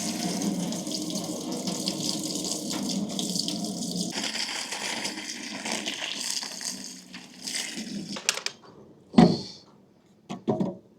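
Tap water gushes steadily into a tin used for soaking and cleaning beehive frames, a continuous close filling sound for about eight seconds before the flow stops and a few knocks and splashes follow.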